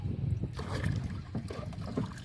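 Rowing a wooden boat: irregular water splashes and knocks from oar strokes, with low wind rumble in the background.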